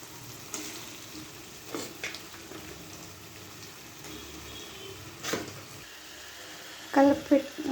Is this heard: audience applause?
no